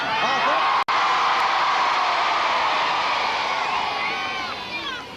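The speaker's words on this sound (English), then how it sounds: "can I have a nice big cheer for Cockermouth as they start?" A large outdoor crowd at a 1982 It's a Knockout team games event cheers loudly and continuously, with shouts and whoops rising over a dense roar that eases off slightly toward the end.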